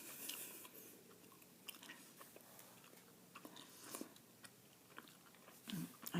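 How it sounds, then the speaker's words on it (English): Gum is chewed softly close to the mic with wet, sticky clicks and squishes in an irregular rhythm, quiet and intimate, with no talking over it. "I can't chew gum and read at the same time."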